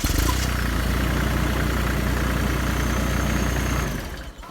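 A Herbhy Hymach 40hp remote control mulcher's engine, already warm, runs loud and steady from the start with a dense, constant rumble close by, then drops away near the end.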